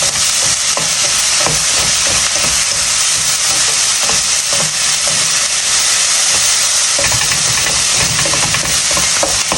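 Curry ingredients frying and being stirred in a pan, a loud dense sizzle and hiss filling the whole stretch with frequent small scraping knocks from stirring.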